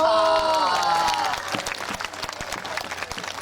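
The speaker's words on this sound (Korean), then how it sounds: "박수를 주신 분만 한 백년 건강하게 환수무강하십시오" An outdoor festival audience at a Namsadang tightrope-walking performance in Suwon breaks into applause as a sung, instrumental tone fades, the clapping growing dense and lively with a few cheers.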